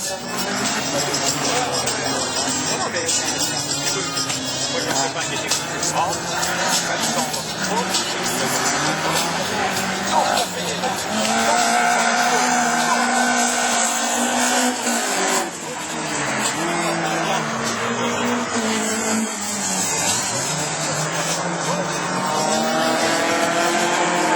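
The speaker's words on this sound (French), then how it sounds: "les moteurs sont plus vifs" Rallycross race cars in a French championship Division 4 heat at the Maurice Forget circuit in Mayenne, engines roaring and revving continuously and loudly under a commentator's steady talk.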